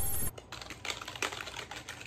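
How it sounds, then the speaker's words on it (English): Keys clatter on a computer keyboard during Watch Dogs 2 hacker gameplay, a quick run of close, crisp taps following a brief louder sound at the start. "I'd grab my keyboard."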